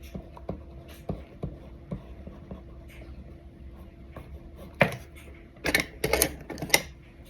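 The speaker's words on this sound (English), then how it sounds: "Please enjoy some drawing ASMR." A pen scratches across paper in close, quiet strokes, soft rhythmic scribbles at first, then a burst of louder, quicker marks toward the end.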